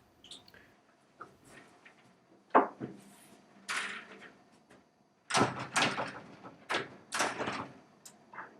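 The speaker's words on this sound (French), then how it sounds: "nous pouvons accrocher la porte de douche" A sliding glass shower door is hung on its rail during an alcove installation. Scattered clicks, knocks and sliding scrapes of glass and metal hardware sound close and fairly loud, with quiet pauses between them.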